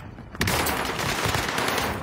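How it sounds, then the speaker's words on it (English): Sustained rapid automatic gunfire in a multiplayer shooter video game, loud and close, a dense rattling burst starting abruptly and continuing without pause. "They're shooting."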